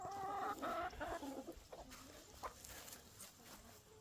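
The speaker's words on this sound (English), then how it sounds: "As normal, there's more chickens and there's 3 turkeys" Chickens clucking on a farm where turkeys are also kept, a few soft, close clucks at the start followed by quieter scattered clucks and rustling, faint overall.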